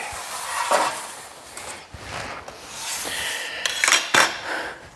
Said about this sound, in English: I'll take a couple pair of tongs, take them out of the foil